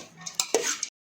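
Jeera rice being stirred into dal fry in a pot: a few quick, close scraping strokes of a spoon over just under a second, then silence, with no talking.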